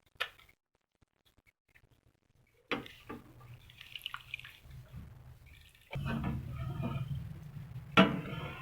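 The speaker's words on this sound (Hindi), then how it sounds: "इसको हम ये लेमन जूस डालकर मिक्स करेंगे" Lemon juice poured into warm milk and stirred to split it into paneer for ras malai; after a silent start come soft liquid trickles and stirring, louder toward the end with a sharp clink.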